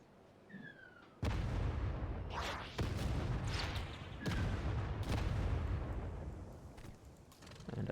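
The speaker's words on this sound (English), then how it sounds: "So we're going to hit them with a trench fighter barrage." A trench fighter artillery barrage in Civilization 7 strikes as a series of heavy booming impacts, several loud blasts arriving a second or two apart with rumbling tails between them.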